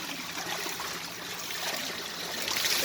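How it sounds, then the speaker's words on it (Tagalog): Water from a natural spring flows and trickles in a steady, moderately close stream, swelling slightly toward the end, with no talk. "Oh, ang ganda naman ng bukal."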